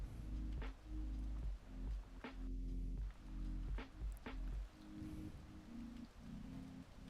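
Rain from a thunderstorm in a Pokémon video game hisses softly and steadily in the background, quiet and continuous beneath looping game music with a pulsing low bass line.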